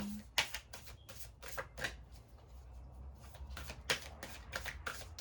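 Tarot cards being shuffled in a series of quick riffling bursts, close and clear, pausing briefly in the middle before resuming; no talking.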